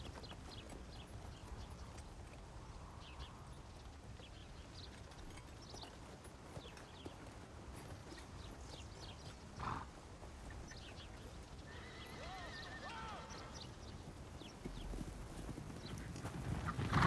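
Horse hooves clip-clopping steadily at a walk, a bit distant, with a horse neighing along the way and soft outdoor background; no talking.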